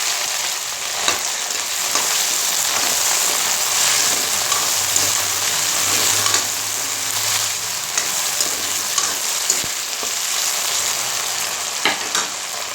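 Potatoes and two bhut jolokia chillies frying in hot oil, giving a loud, continuous close-up sizzle with crackling pops throughout and no talk.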